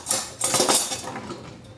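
A spatula and utensils clink and scrape against a baking bowl holding thick butter cookie dough, a handful of sharp close knocks over about two seconds.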